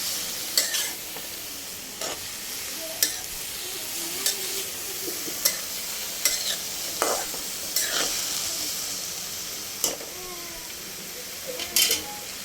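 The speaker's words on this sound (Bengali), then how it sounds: "করলা ভাজি বসাই দিলাম, করলাটা হতে থাক" Bitter gourd fries in a pan with a constant close hiss. About a dozen sharp spatula scrapes and taps come at uneven intervals as it is stirred.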